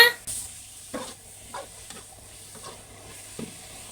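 Pork belly frying with garlic and coriander root in a pan, giving a soft sizzle under a run of spatula scrapes and stirs spaced about half a second apart.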